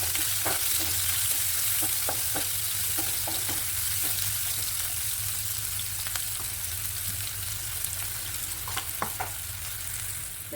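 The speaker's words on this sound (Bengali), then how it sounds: "পেঁয়াজটা অলরেডি ভাজা ভাজা হয়ে গেছে" Chopped onion frying in a pan gives a continuous soft sizzle with scattered clicks and taps of stirring, steady and close, with no voices.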